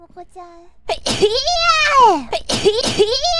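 A single sharp human sneeze near the start, followed by a high, animated voice talking.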